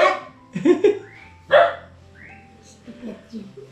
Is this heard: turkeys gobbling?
no